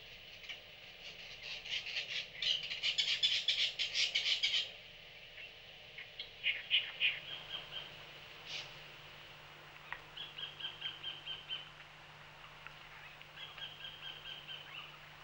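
Mangrove kingfishers chattering aggressively to drive an intruder from their territory, with rapid harsh bursts in repeated runs, loud at first and then in shorter, fainter series, heard outdoors with no voices.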